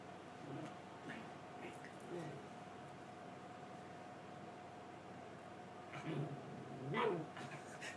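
A Chihuahua-dachshund mix gives faint, scattered whimpers and short yips against a steady background hum, with a slightly louder burst near the end.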